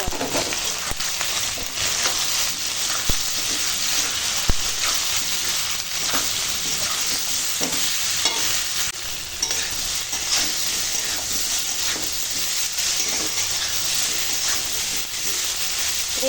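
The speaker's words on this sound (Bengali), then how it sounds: "এখন মশলার সঙ্গে আনাজ কষানো হয়ে গেছে" Mixed vegetables sauté in a pan with salt, chili powder and turmeric, a steady close sizzle broken by repeated scraping strokes of a stirring spoon.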